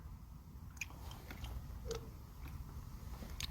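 Crunchy chewing on raw black sea bream sashimi dipped in doenjang, with soft close-up bites and mastication sounds repeating irregularly over a low, steady background.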